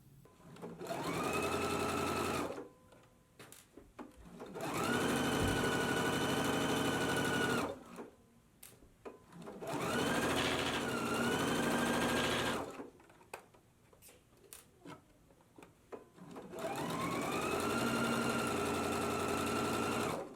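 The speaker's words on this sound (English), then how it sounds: "then we can stitch it at a 3/8 of an inch seam allowance" Sewing machine stitching the side seam of a jumpsuit, four long steady runs of humming motor whir close by, separated by short quiet pauses.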